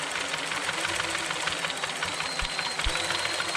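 A Revell 1/4 scale visible V8 model engine running at higher RPM, a fast mechanical clatter and buzz with rapid rhythmic knocking and a few sharper thumps, steady and moderately loud.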